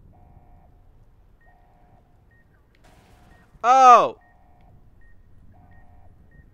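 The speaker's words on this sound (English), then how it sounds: "stop beeping." A faint electronic alarm beeps at an even repeating pace in Fallout: New Vegas Dead Money, with one loud short exclamation from a voice breaking in midway.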